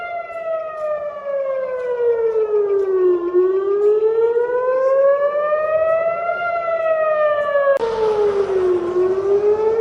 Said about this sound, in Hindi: टेल अवीव में लगातार सायरन्स बज रही हैं